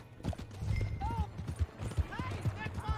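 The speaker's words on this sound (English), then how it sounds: "Hey, that's my horse." Horse hooves clip-clopping in the video game Red Dead Redemption, brisk rhythmic hoofbeats up close with a brief whinny and bird chirps, while people talk over them.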